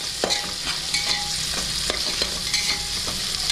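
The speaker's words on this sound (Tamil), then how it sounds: "நான் குக்கரில் தாளித்து விடுறேன்" Spices and onion temper in ghee in a pressure cooker for ghee rice, a steady sizzle broken by sharp metallic scrapes and clinks of a spoon stirring against the pot.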